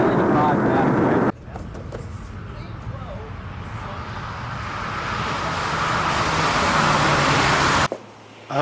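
A Triumph 2500 Mark I driving at speed gives a steady engine drone and road noise, loud and close and slowly building, with abrupt cuts at the start and end and voices talking over it.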